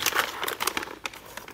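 Smoked beef short ribs being unwrapped from their wrapping after hours on the smoker: close, crisp crinkling and rustling of paper or foil in brief irregular bursts.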